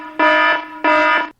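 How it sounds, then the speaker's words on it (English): Two loud, harsh electronic buzzes of equal length from a timer buzzer, separated by a brief gap, with no talk over them. "I do have a buzzer this week, something I've not had for the past few weeks."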